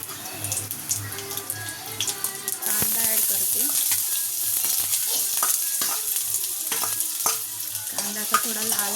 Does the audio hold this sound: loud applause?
no